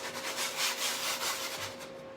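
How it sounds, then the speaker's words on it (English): A sanding block rubbed by hand over chalk-painted wood furniture, a close, steady back-and-forth rasp of several quick strokes that fills the short stretch without pause. "we're gonna sand this again"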